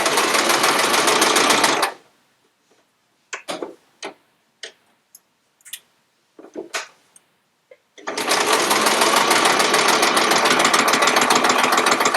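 A sewing machine stitches quilt pieces in two loud, steady runs of rapid whirring, one at the start and a longer one at the end. Between them come scattered clicks and handling noises.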